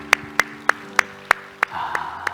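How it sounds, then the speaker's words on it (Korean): In a church, a few loud, evenly spaced claps ring out one by one, close and sharp, then trail into a softer, scattered clapping at the end. "우리 하나님께 영광의 박수 합시다."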